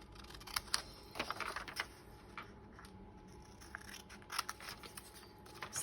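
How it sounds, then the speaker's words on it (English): Scissors snip through paper along fold lines, a string of small crisp clicks and cuts in uneven bursts, close and quiet with no talk. "I'm trying to stay on the fold lines because you know I can't cut straight."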